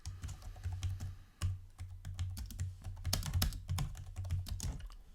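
Rapid, steady clicking of computer keyboard keys as a quiz question is typed, close and quiet over a low steady hum.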